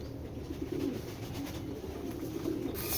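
Giribaz pigeons at a seller's loft coo softly in low, rolling phrases that repeat a few times against a constant background hum, quiet and without talk.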